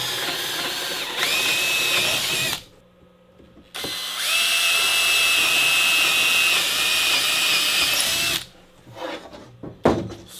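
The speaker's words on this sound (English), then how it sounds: "I can drill right through adjacent to that screw" A power drill bores through the wooden boards of a Lure of the North winter camping toboggan, whining loudly in two sustained bursts, a short one and then a longer one, before brief handling knocks and clatter.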